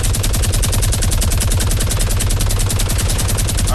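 Rapid, sustained automatic gunfire in the Fortnite Battle Royale video game, a loud continuous stream of shots with no pauses and no talking.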